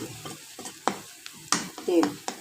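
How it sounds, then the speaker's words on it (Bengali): Onion, salt and turmeric frying in hot oil for potato bhaji, with short bursts of sizzling and the scrape of stirring coming in quick irregular waves, close and fairly loud. "তেলের মধ্যে পেঁয়াজ, লবণ আর হলুদের গুঁড়া দিয়েছি।"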